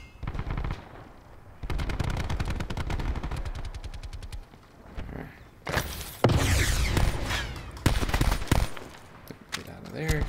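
Rapid automatic gunfire and scattered shots in a first-person shooter game, loud and close, coming in bursts with sharper impacts and debris noise later, a voice talking between them.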